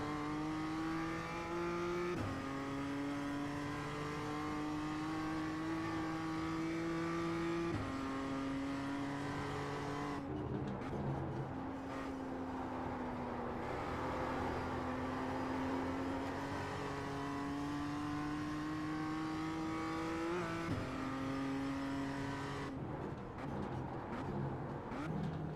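Race car engine in iRacing, sounding like an old BMW M3 CSL, revving up through the gears in long rising pulls with sharp drops at each shift, loud and continuous throughout.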